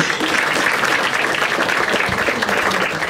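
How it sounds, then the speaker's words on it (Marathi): Sustained applause from the audience at a Marathi stand-up comedy show, with a dense, even patter of many hands clapping throughout, loud and close, with no voice over it. "एकदा टाळ्या वाजायच्या."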